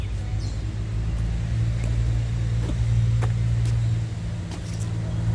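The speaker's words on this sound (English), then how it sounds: "A lot of traffic." Steady low rumble of road traffic on a busy Philadelphia street, continuous and fairly loud, with a few faint passing clicks and higher sounds over the drone.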